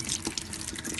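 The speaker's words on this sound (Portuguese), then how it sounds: "Logo após a gente jogar água" Water poured over clay soil held in a hand, a steady wet splashing and trickling for about a second, close and moderately loud.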